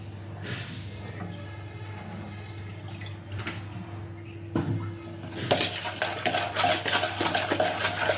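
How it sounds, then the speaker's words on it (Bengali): Sugar and oil being mixed in a bowl for biscuit dough: a low steady hum at first, then continuous scraping, stirring strokes of a utensil against the bowl growing louder and busier toward the end. "আমি চিনি আর তেল ভালো করে মিক্স করে দিয়েছি।"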